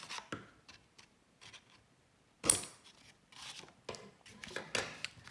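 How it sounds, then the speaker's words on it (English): Scissors snip paper while a Masu origami box is trimmed, giving a handful of close, crisp cuts separated by short pauses, with faint rustling in between. "just snip it."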